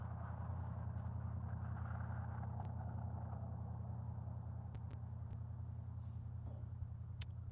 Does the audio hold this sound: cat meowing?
no